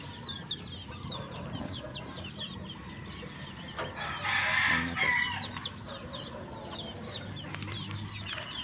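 Gamefowl roosters of pumpkin hatch, kelso and Gilmore lines crow on a farm, with one louder crow rising near the middle over steady background clucking and more distant crowing from other birds.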